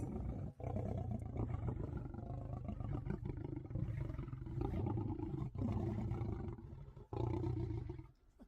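A lion lets out a long, sustained roar with a couple of brief breaks, loud and dense throughout, with music underneath.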